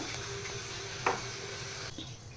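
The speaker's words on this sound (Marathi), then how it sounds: "आता आपण हे छान मिक्स करून घेऊया" Rice kheer with sugar being stirred in a pot: a steady hissy scraping wash with one brief clink of the spoon against the metal, close and continuous, no voices.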